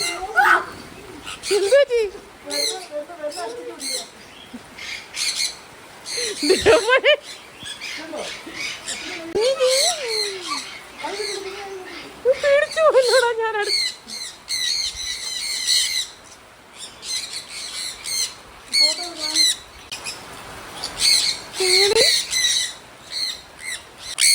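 Harsh squawks and calls from several birds close by, repeated irregularly throughout, with people talking in between.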